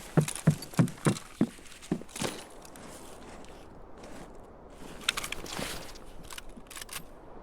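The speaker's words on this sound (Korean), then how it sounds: "발소리." Footsteps sound in a multiplayer video game. About six quick, crisp steps land in a brisk rhythm, then a fainter cluster follows a few seconds later against quiet ambience.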